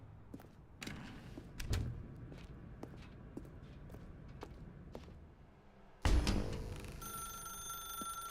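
In the video game The Stanley Parable, a run of soft thudding footsteps gives way to a telephone that starts ringing with a bright, sustained electronic tone near the end.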